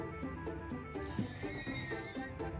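Horses neighing in the game Minecraft during a horse race, several overlapping whinnies with a dense, steady stream of sound and no pauses.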